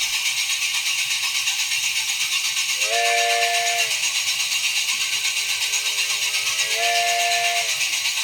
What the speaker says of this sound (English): you can make a realistic sounding twiddling whistle sound for your steamer